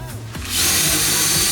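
A power drill spins up and bores a small screw hole into wood for a pumpkin-shaped Halloween table, a short, loud whirring burst heard close up.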